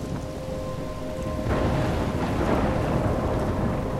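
Stormy weather in the video game Life Is Strange: a steady roar of heavy rain and wind with a deep thunder rumble swelling in about midway and holding loud to the end, with no voices.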